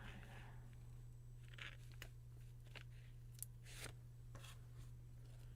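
Scissors snip through a paper piecing pattern for a bookcase quilt in quiet, scattered short cuts and crinkles over a low steady hum.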